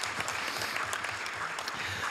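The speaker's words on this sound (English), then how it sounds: "Let's give prizes a big applause." A crowd at a city council meeting applauds, a steady wash of clapping hands without voices over it, filling the whole short stretch.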